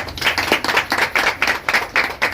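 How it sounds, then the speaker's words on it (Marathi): Rhythmic group clapping from an audience at a utensil-kit distribution event for construction workers, near and fairly loud, hands striking together in regular repeated bursts. "आपण सगळेजण एकदा टाळ्या वाजूया"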